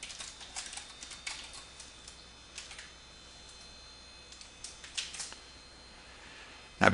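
Values being typed on a computer keyboard in quiet bursts of soft key clicks, irregular in rhythm with short pauses, close and fairly faint, with no talking.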